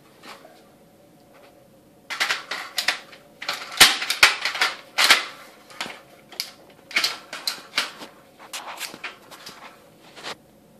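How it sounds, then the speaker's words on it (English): A rifle magazine is forced back into the weapon with difficulty because a round has shifted out of place. Close, irregular metallic clicks, rattles and knocks come in uneven bursts after a quiet start, with no talking. "I was having a problem putting my mag back in"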